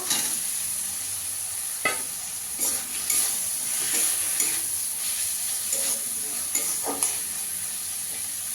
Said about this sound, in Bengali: আলুটা দিয়ে ভালো করে কষিয়ে নেবো